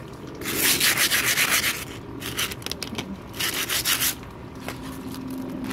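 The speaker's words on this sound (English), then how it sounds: "I have a piece of 60 grit sandpaper." Coarse 60-grit sandpaper rubbed over a palm-tree stepping stone, giving loud, rhythmic scratchy strokes in bursts with short pauses between, close up and alone.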